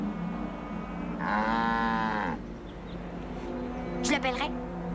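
A cow in its pen gives a long, drawn-out moo, followed by a shorter call a moment later, with a faint background murmur.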